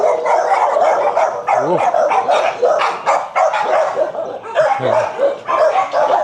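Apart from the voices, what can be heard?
dogs barking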